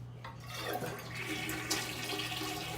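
A repaired toilet that had been running and hissing flushes in one strong, steady rush of water, heard up close and alone for the whole stretch.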